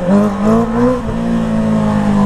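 A motorcycle engine revs hard, close and loud, surging up and dropping back twice before settling into a steady high drone.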